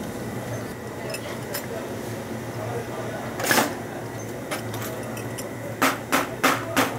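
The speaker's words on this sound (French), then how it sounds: "cette machine, elle va envoyer des clous" A pneumatic nailing machine drives nails into shoe leather in a shoemaking workshop: a loud single bang, then a quick series of sharp, close impacts over a steady mechanical hum.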